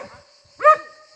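A dog gives a single short, close bark, with quiet murmuring around it.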